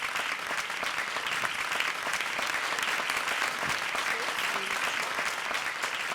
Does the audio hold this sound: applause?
yes